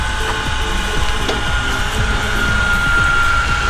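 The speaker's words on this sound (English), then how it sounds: "the motor mover is actually moving against the tyre now" A Go-Pod Powertouch caravan motor mover presses its roller against a tyre, producing a loud, continuous mechanical whirring drone with a steady tone and faint rhythmic grinding beneath it.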